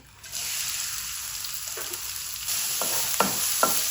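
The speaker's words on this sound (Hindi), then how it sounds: "1 कप हम यहाँ पे ऑयल डाल देंगे और इसके अंदर हम प्याज ऐड कर देंगे" Onion dropped into a cup of hot oil in a wok, with a sudden sizzle rising and holding steady, then a few stirring scrapes near the end.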